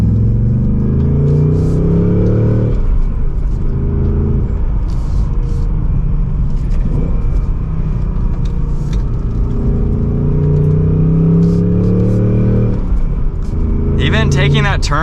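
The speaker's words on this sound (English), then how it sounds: "And from second gear, here we go." A 2024 Ford Mustang GT Premium with a manual gearbox accelerates from second gear, its V8 engine rising in a rumbling pitch sweep, easing, then climbing again close up, with a voice speaking over it.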